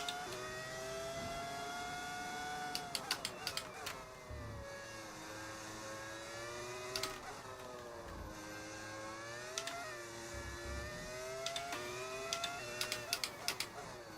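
Steady, high-pitched whine of an F1 25 race car engine in a video game, pitch rising and falling with shifts and revs over about fourteen seconds, with brief clicks on top.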